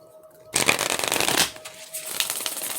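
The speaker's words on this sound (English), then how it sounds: "I think I already shuffled the tarot anyway" Tarot cards being shuffled close up, a dense papery riffling burst that starts abruptly, runs for about a second, then continues more softly with lighter flicks.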